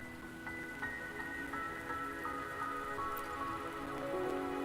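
Rain patters in the fantasy video game Wuthering Waves, a soft continuous drizzle of droplets beneath sustained tonal music.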